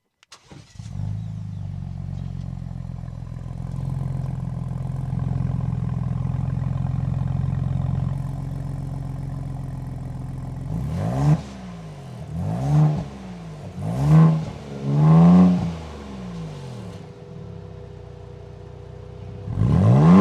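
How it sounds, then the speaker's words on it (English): A Ford Bronco Raptor's active exhaust in off-road mode idles with a low rumble, then gives four or five loud, distinct revs blipping up and falling back, ending on another sharp rev. "We'll see what that active exhaust sounds like."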